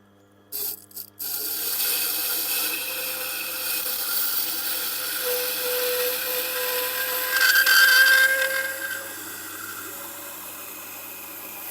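A Tormek T8 sharpener grinding the tip of a pair of scissors held in an SVX-150 scissor jig, a steady close whirring hum after a few brief knocks at the start, with a shrill grinding rise in the middle.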